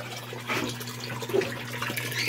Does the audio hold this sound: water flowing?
yes